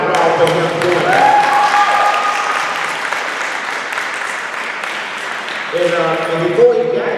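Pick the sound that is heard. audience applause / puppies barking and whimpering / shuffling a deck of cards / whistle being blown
audience applause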